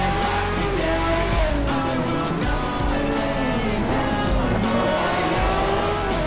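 Race cars in the video game Need for Speed Shift roar loudly and continuously, engine pitch rising and falling through gear changes, with bursts of tire squeal over the racing.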